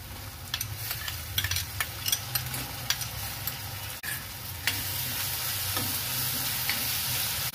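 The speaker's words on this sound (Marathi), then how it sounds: "त्यामध्ये आपण 2 चिरलेले टोमॅटो टाकूया." Two chopped tomatoes dropped into hot oil in a pan for kolambi pohe, with a close, continuous sizzle and crackle and scattered spits, growing louder and denser partway through.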